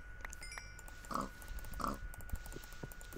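A pig in a video game gives two short grunting oinks about a second apart, faint against steady background game noise.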